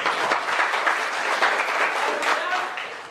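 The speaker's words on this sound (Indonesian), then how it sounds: "tepuk tangan dulu, bagus" A classroom full of people claps steadily for a few seconds, dense and fairly loud, tapering off at the end.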